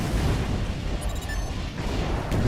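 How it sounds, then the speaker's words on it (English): Rumbling fortress cannon fire in Armored Core 4, a steady low booming roar of distant heavy artillery and explosions that continues throughout without a clear break. "Keep an eye out for cannon fire."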